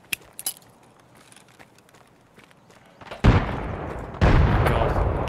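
A grenade blows up in the shooter game Escape From Tarkov, after a quiet stretch of faint clicks and metallic rattles. Two loud close booms follow with sustained rumbling noise between and after them.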